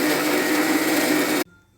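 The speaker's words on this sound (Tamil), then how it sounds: "மிக்ஸியில் அரைக்க கொஞ்சோண்டு சீனி போட்டுக்கணும்." A mixer grinder whirs loudly and steadily while grinding sugar, then stops abruptly, leaving a faint hum.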